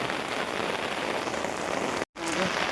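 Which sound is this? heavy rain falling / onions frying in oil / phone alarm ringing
heavy rain falling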